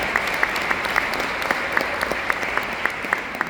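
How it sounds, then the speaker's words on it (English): Lively audience applause fills a training seminar hall in Budapest, a dense, loud stream of clapping with sharper individual claps popping out at a steady pace throughout. "a very big round of applause from Czech Republic"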